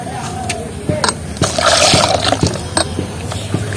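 Water poured over potato that was ground on a grinding stone, rinsed to strain it while making homemade cornflour: soft splashing and trickling with a few sharp knocks and clinks, fairly quiet and close.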